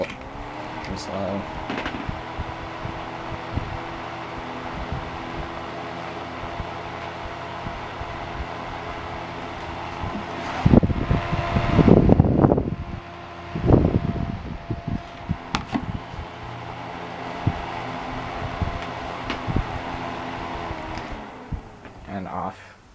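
A 7-inch Holmes Tropicool desk fan runs on its low setting, a soft steady whir and hum, briefly masked midway by louder handling clatter before the drone settles again.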